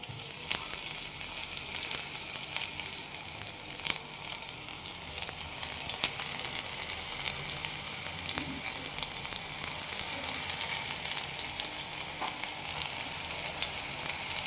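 Flower fritters (pakora) frying in hot oil, a steady close crackling sizzle with scattered pops and faint occasional stirring, carrying on evenly without speech.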